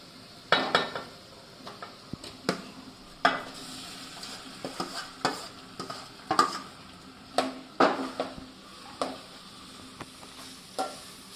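Spiced boiled potato mixture for dabeli being stirred in a pan, with repeated close scraping and clinking of a spoon against metal and a soft sizzle, in irregular strokes throughout.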